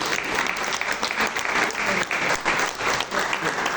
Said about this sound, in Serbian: Molim vas jedan aplauz za uspešnost.